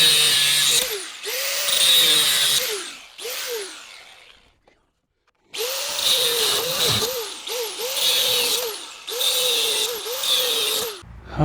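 A power grinder whines loudly in repeated bursts, its pitch dipping as it bites into material, with a brief silent pause midway before it resumes.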